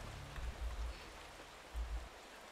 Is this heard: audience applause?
no